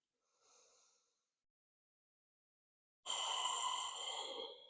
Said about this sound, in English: Take one more full breath.